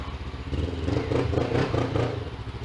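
A 500 cc motorcycle engine runs steadily nearby with a low, rumbling drone that swells slightly in the middle, with no talking.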